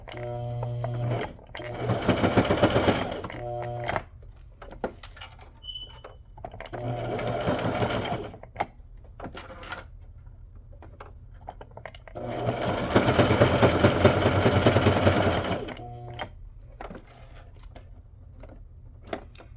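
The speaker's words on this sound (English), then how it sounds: "Let's do a little zigzag to make things interesting." A sewing machine running a zigzag stitch on a paperclip-themed banner: three rapid mechanical whirring bursts, near and distinct, separated by short pauses with small clicks, the last burst the longest.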